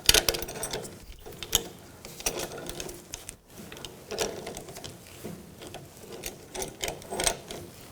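Outer tie rod end being turned off the steering of a 2000-2006 BMW X5: continuous quiet, irregular mechanical clicking and grinding of threads, close and faint, with no talking.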